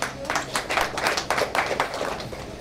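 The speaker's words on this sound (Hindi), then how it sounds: "प्लीज तालियां बजाइएगा सर।" Audience clapping at a film trailer launch, a dense burst of handclaps from a crowd continuing steadily throughout, moderately loud with no one speaking over it.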